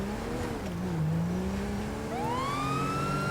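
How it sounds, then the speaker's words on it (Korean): Police car siren in Grand Theft Auto V, a wailing tone that sweeps up and down over a steady engine rumble, loud and close, then rising sharply into a higher wail near the end. "사이렌을 울리면서 지미 아빠가 간다"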